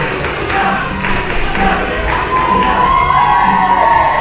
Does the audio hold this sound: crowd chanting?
yes